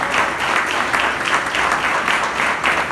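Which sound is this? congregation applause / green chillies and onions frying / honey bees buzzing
congregation applause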